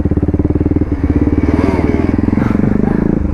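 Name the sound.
250cc motorcycle engine revving while riding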